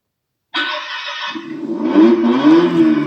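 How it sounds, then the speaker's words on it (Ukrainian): A children's electric ride-on toy car with a repaired control panel switching on: after silence, an electronic engine start-up sound bursts in, then hums and revs up in rising, wavering tones, loud and close, with no talk. "у нас машинка запустилася"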